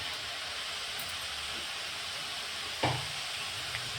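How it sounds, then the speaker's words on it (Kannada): Vermicelli frying in oil in a pan gives a steady, soft sizzle throughout, with one brief louder stir or scrape near the end. "ಇದು ಒಂದು ಸ್ವಲ್ಪ ಫ್ರೈ ಆಗಲಿ ಎಣ್ಣೆಗೆ"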